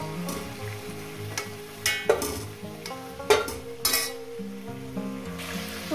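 Chicken pieces for a Punjabi-style chicken curry are lifted from hot oil in a pan, with steady sizzling, stirring, and a few clinks and scrapes of a utensil against the metal, close and moderately loud.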